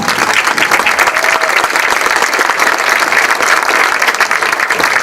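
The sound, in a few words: applause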